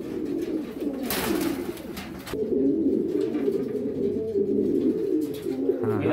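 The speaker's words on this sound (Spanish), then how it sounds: "Una pichona cerrada." Domestic pigeons cooing in a loft, a steady low rolling coo that runs almost unbroken through the clip, close and fairly loud, with a brief burst of wing flutter or rustling early on.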